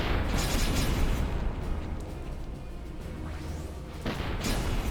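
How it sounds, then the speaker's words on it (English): Cannon fire from cannoneers bombarding enemies on castle walls in the strategy game Symphony of War, a dense, loud rumble of booms and crashing impacts running throughout with a renewed burst near the end. "I'm going to want some cannoneers to fire away at those enemies on the walls."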